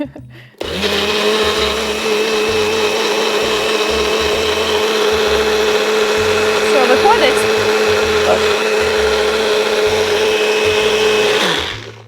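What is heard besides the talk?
blender blending coconut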